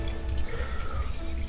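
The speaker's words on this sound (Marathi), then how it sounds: "डोंगरातून झिरपणाऱ्या पाण्यातून हा ओढा तयार झालेला आहे." A small hillside stream fed by water seeping from the hills on the climb to Vairatgad fort near Wai, Satara, giving a steady close trickle and drip of running water with no talk.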